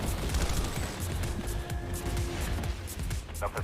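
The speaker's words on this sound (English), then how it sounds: "There's a lot of gunfire." Dense, continuous game gunfire with scattered crashes and booms, loud and busy throughout, with faint voices mixed in.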